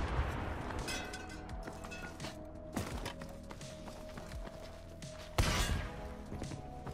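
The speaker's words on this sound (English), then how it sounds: "probably one of the best Panzer shots you'll ever see" A Panzerfaust rocket fires in a Battlefield battle royale match, a deep booming launch and blast standing out over steady gunfire and battle noise, with a heavy impact thump near the end.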